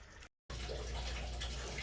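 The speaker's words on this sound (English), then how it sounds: "Just gonna take a few for that to drain." Water rushes steadily down a floor drain in a flooded basement after the drain line was cleared with a flexshaft, a continuous close gurgling flow that breaks off briefly near the start before resuming.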